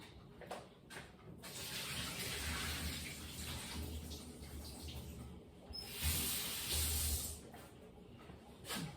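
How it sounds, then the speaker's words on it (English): Rinsing water is poured and drained out of a pan of ackee at a sink, a steady splashing rush that swells louder twice in the middle, with no talking. "So I'm going to get on and rinse off this water. I'm just going to drain it out"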